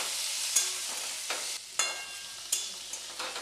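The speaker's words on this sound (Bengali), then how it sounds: "ওটাও আলুর সঙ্গে ভেজে নেব।" Potato pieces and a small tomato fry together in a pan for aloo paneer, giving a soft sizzle with a few sharp spatula scrapes and clacks spaced about a second apart, fairly quiet and with no talking.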